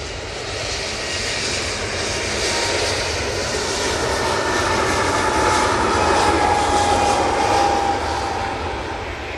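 Airliner jet engines at Manchester Airport roar continuously and loudly, a broad steady rumble with a thin whining tone rising over the middle stretch, no talking heard.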